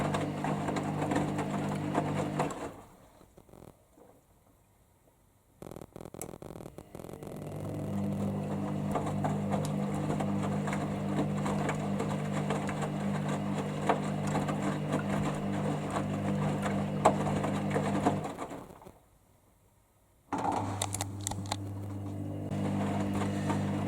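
A Hoover Dynamic Next washing machine (DXOC58AC3/1-80) runs its fine rinse with a steady mechanical hum and drum churning that drops to near silence twice before resuming, continuous and close.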